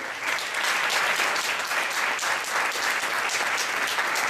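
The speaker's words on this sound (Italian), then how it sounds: "Questo era l'applauso del Festival Pontino del cortometraggio." Sustained applause fills the hall at an award ceremony for a short film festival, a dense, even clapping from a large audience that carries on throughout without voices.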